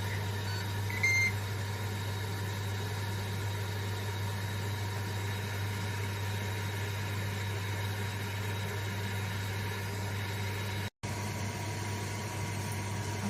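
A Ninja air fryer cooking turkey runs with a constant low hum and fan whir, steady and unchanging throughout, with one very short dropout near the end and no voices.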